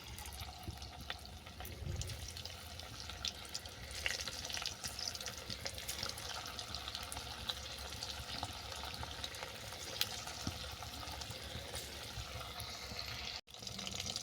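Chicken tikka pieces fry in hot oil, giving a steady, moderately quiet crackling sizzle that holds throughout with small pops and a brief dip near the end.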